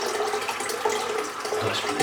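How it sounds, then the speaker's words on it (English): A tap runs into a sink for about two seconds, a close, steady splashing stream of water while shaving soap is being lathered. "Let's get a bit more water."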